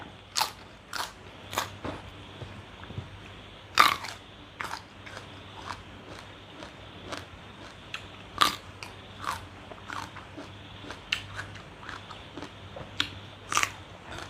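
Crunchy chewing of instant noodles mixed with vegetables, close up: repeated sharp bites and crisp crunches in an irregular rhythm over quiet background, with no talking.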